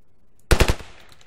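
An AK rifle fires a quick burst of three sharp, loud shots in the video game Ravenfield, each crack closely following the last before a short fading tail.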